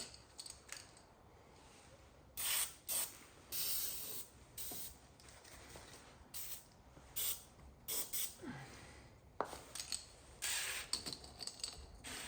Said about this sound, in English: spray some lubricant on it